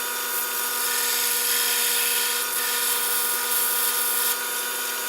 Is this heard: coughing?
no